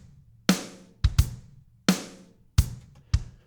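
Programmed drum beat from a Logic Drummer track with the hi-hats set fully closed: six crisp, punchy hits in a loose groove, kick and snare with short tight ticks on top, loud and close, no voices.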